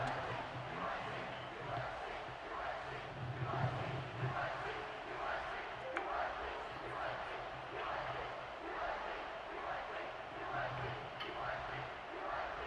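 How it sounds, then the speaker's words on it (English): Stadium crowd in EA Sports College Football 26 keeps up a steady, loud buzz after a score, a dense wash of cheering voices that fills the whole stretch. "this crowd is buzzing after that last score"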